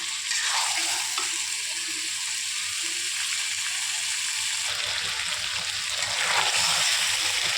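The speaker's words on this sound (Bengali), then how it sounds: "মাংসগুলো দিয়ে এটা কষিয়ে নেব ভালো করে।" Meat sizzles and fries steadily in a hot pan while being stirred, with a continuous crackling hiss and occasional scraping, close and fairly loud with no talking.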